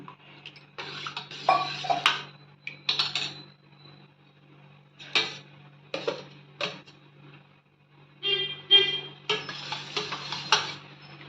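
Ragi koozh, a millet drink, being stirred in a pot, with bursts of clinking and scraping separated by short quiet pauses, close and fairly soft.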